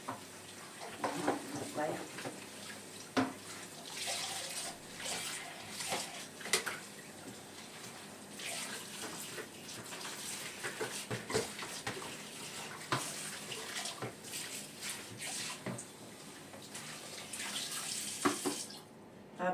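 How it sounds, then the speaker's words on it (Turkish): Hot water runs steadily from a kitchen tap into a sink, a continuous splashing rush close by. Dishes or jars clink in it now and then, and talk can be heard faintly under it. "Sıcak suyumu açayım da."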